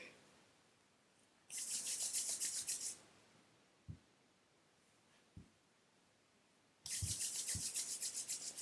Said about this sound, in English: Rub your palms, your eyes, close the eyes, and the scalp.